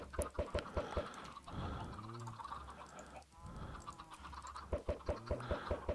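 Minecraft chickens cluck in quick bursts at the start and end, with a low drawn-out fowl call in the middle, all fairly faint against a soft background rumble.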